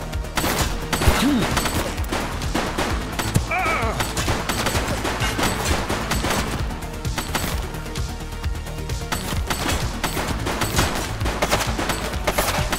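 Dense, continuous gunfire from a police shootout in The Precinct video game, with sustained bursts and rapid shots filling the whole stretch at steady loud intensity, and brief voices breaking in over the shooting.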